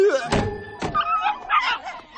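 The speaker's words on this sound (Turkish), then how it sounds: "Yavru köpekler." A couple of sharp thumps, followed by small dogs yipping and whimpering in short, high squeaks, close by.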